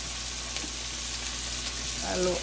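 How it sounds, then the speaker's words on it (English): Turmeric, cilantro, tomatoes and peppers sauté in a pan with a steady, close, hissing sizzle that stays even throughout. A voice briefly murmurs near the end. "So let all of that saute a bit. Then I'll add the tomatoes and the peppers."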